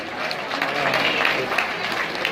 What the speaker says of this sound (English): Can we get a round of applause for 16 here?